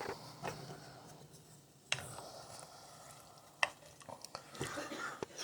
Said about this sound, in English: got a packet of Lipton onion soup mix, garlic, potatoes, stirring that together.